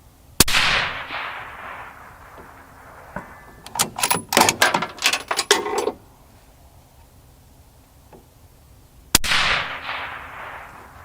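A Howa Bravo 1500 rifle in 6.5 Creedmoor fires two loud, sharp cracks about nine seconds apart outdoors. Each crack trails off in a long rolling echo, with a burst of mechanical clatter in between.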